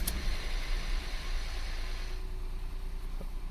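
A Ford Fiesta 1.0 EcoBoost three-cylinder engine idles steadily nearby after its oil sump has been refitted, a continuous low hum with a faint tick at the start and no voices.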